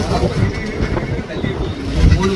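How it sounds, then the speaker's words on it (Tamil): Strong wind buffets the microphone over a steady low rumble of waves and boat motion during a storm at deep sea, loud and continuous throughout. "இப்போ கடல்ல காற்றுமே அதிகமா இருக்கு, கடலோட அலையுமே அதிகமா இருக்குதுங்க."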